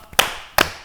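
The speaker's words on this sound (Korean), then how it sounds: "오, 박수까지" Two sharp hand claps, close and fairly loud, spaced about half a second apart in a live TV studio, with nothing else between them.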